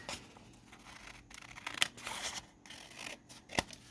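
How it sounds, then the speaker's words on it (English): Scissors trimming a rough torn paper edge, quiet close snips and crisp cuts with a couple of sharper clicks, alone without talk. "So I'm going to trim this kind of rough edge off of here where I tore this"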